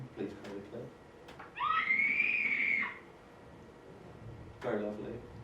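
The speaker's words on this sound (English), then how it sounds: "These are going to be women screaming because they do a lot of screaming." Women screaming in a sound effect: a long, rising high-pitched scream, a short pause, then a second, shorter scream, fairly loud against a quiet background.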